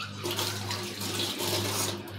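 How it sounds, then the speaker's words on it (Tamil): Water pours steadily into a cooking pot while tomato rice is being made, a continuous close splashing gush that runs at an even level throughout. "லைட்டாக தண்ணியை ஊற்றிட்டு ஓகே தட்டை போட்டு மூடணும்னா"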